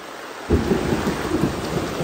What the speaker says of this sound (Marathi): अरे लय गाजता. इथं सुरुवात पावसाची.